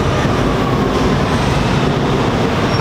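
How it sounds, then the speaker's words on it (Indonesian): An LRT train on an elevated track passes overhead at Phaya Thai in Bangkok, a loud, steady rumble with rolling wheel noise filling the whole stretch, no talk. "Atas kita ni train"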